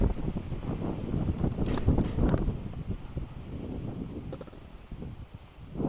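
Gusty wind buffeting the microphone in low rumbling bursts, rising and falling, with faint outdoor rustling in the background.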